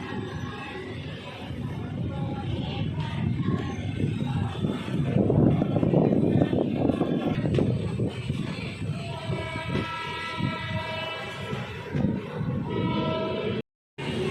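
Yognagri Rishikesh Udaipur City Express rolling through Phulera Junction on the North Western Railway, a steady loud rumble of wheels and carriages with a sustained horn-like tone in the latter half, heard close and continuous.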